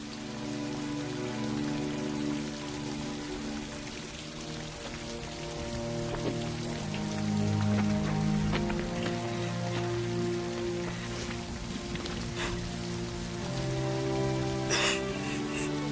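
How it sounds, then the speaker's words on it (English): Steady rain pattering on a surface, continuous and fairly loud, with a sustained musical drone underneath and a few sharper drips. "It's the rain. It's the drops."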